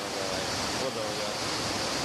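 A river waterfall roars in a steady, dense rush of falling water, loud and close, continuing unbroken throughout with no voices.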